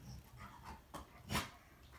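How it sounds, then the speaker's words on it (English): A dog snorts and huffs in the background of a fly-tying session, a few short breathy bursts close by, the loudest near the end, over a quiet room. "You hear my dog snorting in the background there, can't you?"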